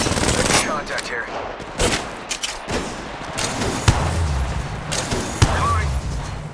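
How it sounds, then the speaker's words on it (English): Rapid gunfire bursts in the mobile battle royale shooter Apex Legends Mobile, sharp automatic shots and single cracks with a short pause, under the game's in-character voice callouts. "Opening fire. Making contact here."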